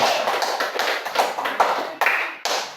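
Classmates applauding a student named Rismawati in a microteaching classroom session, a small group clapping in close, distinct bursts with a choppy, uneven rhythm over about three seconds.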